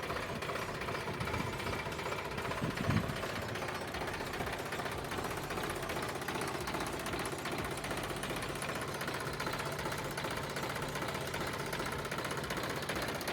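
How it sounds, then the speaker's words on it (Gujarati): A 50 HP tractor, a 2011 model, running steadily nearby with a continuous knocking diesel chug and a thumping rattle, and no voices over it. "50 HP ટ્રેક્ટર છે"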